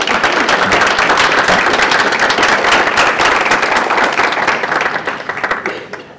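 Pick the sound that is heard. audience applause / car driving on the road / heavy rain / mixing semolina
audience applause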